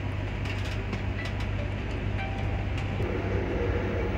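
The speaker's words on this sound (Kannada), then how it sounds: "ಯಾವುದೋ ಒಂದು ಟ್ರೈನ್ ಹೋಗ್ತಾ ಇದೆ" Another train passes alongside a Vandhe Bharath special from Ernakulam to Bengaluru as it slows. A steady loud rumble of wheels and carriages carries on throughout, with faint clatter on top.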